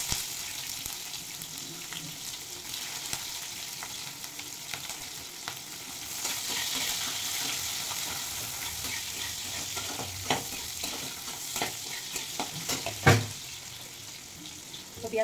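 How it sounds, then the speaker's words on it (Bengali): Chopped onions fry in a pan with nigella seeds: a steady, close sizzle runs throughout, broken by stirring scrapes and a sharp clatter near the end. "তো পেঁয়াজটা হালকা করে ভেজে নেব।"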